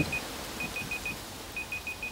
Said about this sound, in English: Okay, timer's going off.